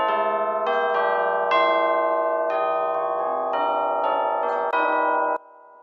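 Orchestral tubular chimes ring out from close by, struck one after another in a slow melodic series, each strike bright and sustained, overlapping into a loud shimmering wash before being damped at the end.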